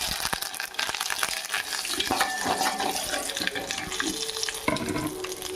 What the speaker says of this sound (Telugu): మనం కొంచెం కరివేపాకు వేసుకుందాం.